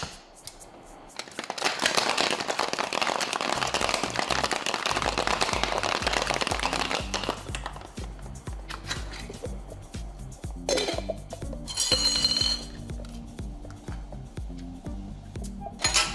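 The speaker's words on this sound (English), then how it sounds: "Then we're going to give it a shake." A cocktail shaker with ice is shaken hard while a rum Sidecar cocktail is mixed, giving several seconds of dense, steady rattling that fades into scattered clinks of ice and glass.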